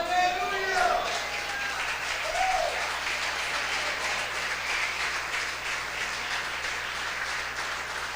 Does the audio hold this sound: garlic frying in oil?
no